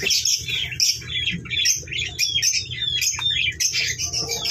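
Many small yellow birds chirp and tweet continuously, close by, with overlapping high calls over a low rumbling background.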